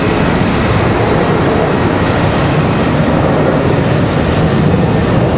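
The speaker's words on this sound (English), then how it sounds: "Got another Spirit Airlines that's come in" Spirit Airlines airliner arriving at Charlotte Douglas airport, a steady, dense jet engine roar throughout with no voices.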